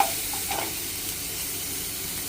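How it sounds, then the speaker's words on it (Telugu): Onions fry with salt and turmeric in a pan, giving a soft continuous sizzle and hiss close by, with faint stirring at the start and no talking. "సాల్ట్ ముందుగా వేసుకుంటే ఆనియన్స్ త్వరగా వేగుతాయండి"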